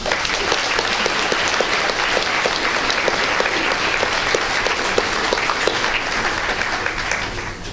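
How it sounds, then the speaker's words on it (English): An audience at a talk on the Gulf oil spill claps steadily, a dense, even round of applause sustained for several seconds that fades slightly at the end. "Let's give a round of applause for everybody."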